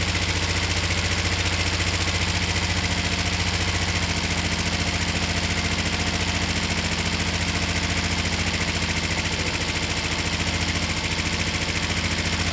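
A small 50cc two-stroke scooter engine, choked for starting, runs at a steady buzzing idle close up, with an even rattling drone that holds unchanged throughout.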